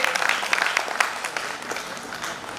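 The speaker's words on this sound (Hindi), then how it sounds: "जोरदार तालियां" Dense, continuous applause from an audience at a founders' day celebration, many hands clapping steadily and fairly loudly for the whole stretch.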